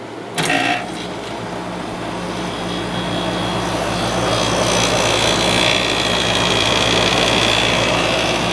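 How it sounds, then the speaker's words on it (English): A window air conditioner with a Rotor X compressor runs on low fan, with a loud, steady mechanical hum and broadband whoosh that builds slightly after a brief startup clunk and then holds constant, with no talk. "This compressor is always a bit loud in this one."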